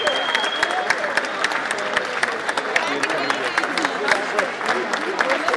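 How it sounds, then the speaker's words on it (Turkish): Steady, dense applause from a crowd greeting an Austrian military search and rescue team (AFDRU), continuous close clapping with voices mixed underneath. "Teşekkür alkışlarıyla karşılanıyor onlar"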